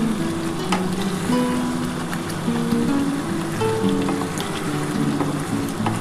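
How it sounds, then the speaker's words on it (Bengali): Chicken and potatoes sautéing together in a pan for a Bengali-style chicken curry with yogurt, a steady dense sizzle and crackle that holds evenly throughout, close and fairly loud, with soft faint background tones beneath. "আলুর সাথে চিকেনটা একবারে কষাচ্ছি"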